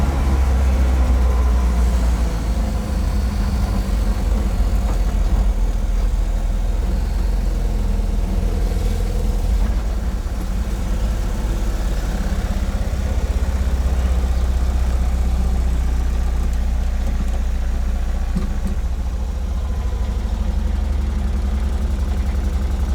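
A 1957 BMW Isetta 300 engine drones steadily while driving, with a loud, continuous low-pitched buzzing rumble that wavers slightly with speed.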